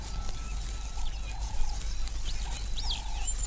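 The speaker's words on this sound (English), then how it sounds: "Helmeted guinea fowl visit the midden regularly to snap up the smaller insects that live in it." Helmeted guinea fowl calling at a rhino dung midden in the bush: a few short nasal bird calls come and go against a low steady outdoor rumble.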